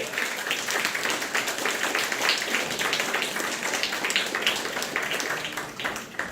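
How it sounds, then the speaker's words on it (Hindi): A presentation audience claps loudly for a doctor, a dense, continuous wash of many hands that holds steady throughout before easing slightly at the end. "जोरदार ताली होनी चाहिए डॉक्टर सर के लिए, जोरदार ताली।"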